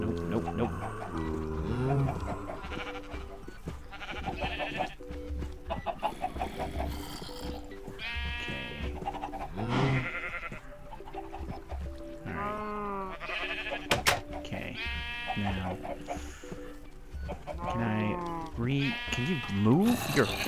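Sheep bleat repeatedly in a Minecraft farm scene, several calls rising over a busy mix of game noise and clucking chickens, with someone talking through most of it.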